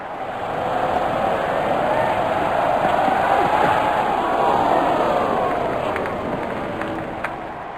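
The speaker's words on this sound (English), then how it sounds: "Crowd going mad here." A stadium crowd roars in the cricket game Real Cricket 20 after a six, a loud swelling wash of cheering that rises, holds and then eases slightly at the end.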